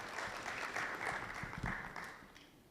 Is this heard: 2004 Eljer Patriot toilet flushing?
no